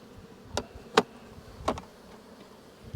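Honeybees buzz around a feeder at a farm apiary, several individual bees zipping past the microphone in short, close passes against a quiet background.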